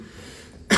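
A single sharp cough bursts out at the end after near silence, loud and close.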